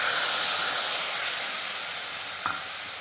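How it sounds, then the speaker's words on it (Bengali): Fried potatoes with a poured spice paste sizzling in a pan, a continuous hissy frying noise that stays even and close, with one brief clink near the end and no voices. "তারপরে আমি খুব ভালোভাবে এটাকে আবারও ভাজতে লাগবো।"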